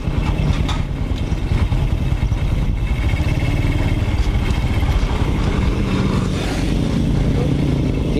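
Engine of a Honda Supra X 125 motorcycle after an engine repair, running steadily and loudly up close throughout, with a continuous mid-pitched hum and some revving as it rides along.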